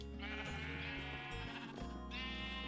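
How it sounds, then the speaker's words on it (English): Sheep bleat repeatedly in the video game Minecraft, several wavering calls in sequence over a steady backdrop of game music and ambient sound. "I don't know what the sheep are doing."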